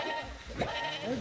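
A goat bleating in the video game Moving Out 2, a short wavering cry heard faintly over game noise and a voice.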